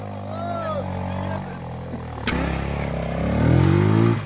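An off-road motorcycle engine idles and then revs up, the roar rising toward the end, while someone shouts repeatedly over it.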